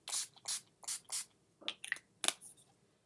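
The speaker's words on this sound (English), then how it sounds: "So I'm just going to spray my face with my NYX primer spray." Several short hissing bursts of a NYX face primer spray pump, a few quick spritzes in a row, close and fairly soft, followed by light handling noises.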